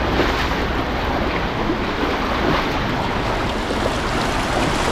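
Strong river current rushing near a dam, a loud, dense, continuous roar of water mixed with wind buffeting the microphone, steady throughout with no voices.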